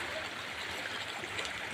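Rain-swollen village stream in the Konkan countryside, a steady broadband rush of flowing water that holds at one level throughout, close and fairly loud, with no voices over it.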